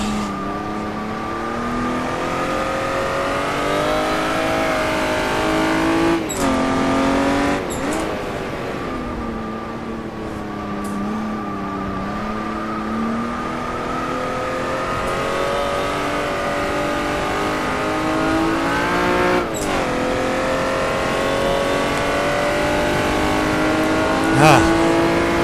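Jaguar D-type race car driven hard around the Goodwood circuit, engine droning continuously from inside the car with pitch rising and falling through gear changes, a few sharp clunks, and the driver talking over it.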